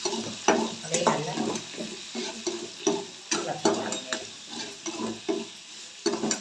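Tomato sautéing in an oil-filled pan for mutton kuzhambu, a steady sizzle broken by repeated scraping stirs of a spatula against the metal, close and fairly loud with no talking.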